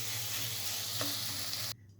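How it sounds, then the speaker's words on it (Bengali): Butter sizzles steadily in hot oil in a kadai for a butter mushroom masala, a dense continuous hiss with one brief clink midway before cutting off abruptly near the end. "আমি কড়াইয়ে আবার তেল দিলাম এবং সেই তেলে আমি একটু বেশি পরিমাণে বাটার দিচ্ছি"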